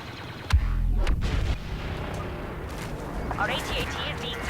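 Star Wars Battlefront combat as an enemy bomber attacks an AT-AT: a sharp blast followed by a rumbling burst, then ongoing mid-level battle noise and a whooshing flyby sweep near the end.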